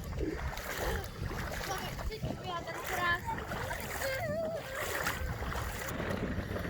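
Water splashing and sloshing while swimming in the sea on the Croatian coast, steady churning close by with gusting wind and surf, and voices talking over it.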